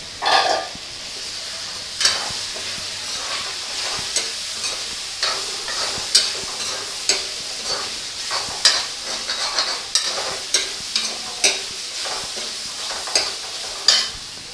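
Tofu and mushrooms are stir-fried in a pan for a spicy basil dish, a soft continuous sizzle punctuated by regular sharp clinks and scrapes of a spatula roughly every second.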